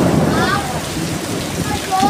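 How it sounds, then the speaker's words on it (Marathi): Steady, dense rainfall during a thunderstorm at Khadpoli, pattering close by as a continuous wash with no clear break, a few faint tonal sounds drifting above it. "कसलं मगापासून विजा चमकतायत, गडगडतय विजा"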